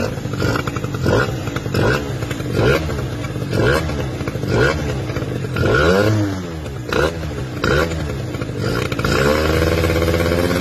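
A carbureted MBK Nitro scooter engine fitted with a Chinese Keihin carburetor revs in a workshop, with repeated sharp throttle blips rising and falling in a loud, rhythmic pattern, ending in a sustained higher rev.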